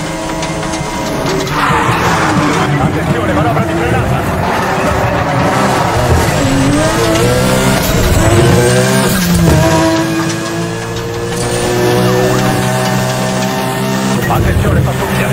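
In the racing game Need for Speed The Run, a car brakes hard with tire squeal over a loud, continuous engine roar, the squeal rising and fading through a sustained stretch of driving.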